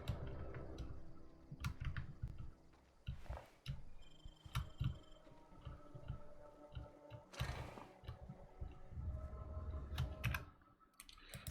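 Clicks and taps from a brand new computer keyboard, irregular and fairly quiet over a steady low background hum, with scattered sharper key strikes and a couple of louder bursts.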